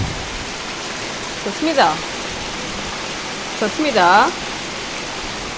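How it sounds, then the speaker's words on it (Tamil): Heavy rain pours outside in a steady, loud hiss that fills the whole scene while a voice calls out twice over it. "செம்ம மழை பெய்யுது"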